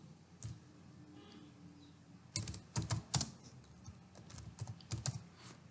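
HTML div code is typed on a computer keyboard, a brief pause giving way to quick bursts of close, clicky keystrokes in uneven clusters.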